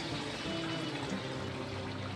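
Water pours into a pan of chicken liver and gizzard masala, making a dense, continuous rushing splash that holds steady at close range for about two seconds.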